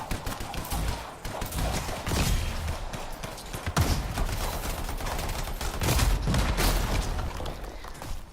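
Turrets fire on the player in the video game Anthem, a dense clatter of bursts and booms that swells and fades across the clip without speech.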